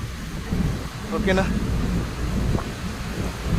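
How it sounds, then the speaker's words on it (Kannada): Rain falling outdoors during a storm, a continuous wash of patter with low rumbling underneath, while a person briefly speaks over it. "ಮಳೆ ಸ್ಟಾರ್ಟ್ ಆಗಿದೆ."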